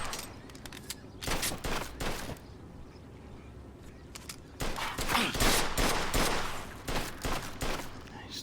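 Automatic gunfire rattles in bursts during a Mafia II shootout, several loud volleys separated by brief pauses, with game ambience and faint voices underneath.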